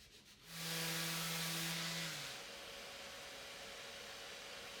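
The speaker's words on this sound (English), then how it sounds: "you gotta blow that sander off like it's a smoking gun" Power sander on a walnut bench, a close rushing whir with a falling tonal whine as the tool spins down, leaving a steady broadband hiss of air afterward.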